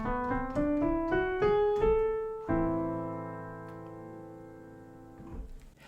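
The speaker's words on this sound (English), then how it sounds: "making what's called the melodic minor scale, which sounds like this." A melodic minor scale plays as a run of distinct pitched notes climbing step by step, the last note ringing out and slowly decaying, clear and alone with no voices.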